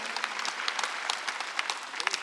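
A church congregation applauds during a Sunday worship service, dense, steady clapping from many hands filling the room, fairly loud and continuous.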